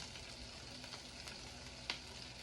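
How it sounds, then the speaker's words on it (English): Scallions sizzling as they go into a pan while making a crustless quiche, a quiet steady frying hiss with one brief sharper crackle near the end. "Scallions are going in."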